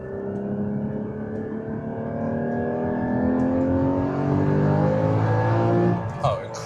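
A Porsche 981 GT4 engine pulls hard under acceleration, heard from inside the car with rising harmonic tones climbing steadily over several seconds, loud and close, before easing off near the end.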